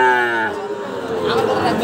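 A Sahiwal bull or calf lows loudly and close by at a crowded cattle market, one long drawn moo that fades into the murmur of the surrounding crowd.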